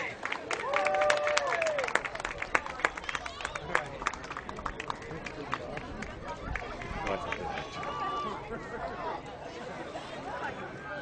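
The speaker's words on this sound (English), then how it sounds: "applause, everybody" A crowd applauds and cheers outdoors at a charity plunge into a marina, scattered claps mixing with whoops and chatter from many people, with voices talking throughout.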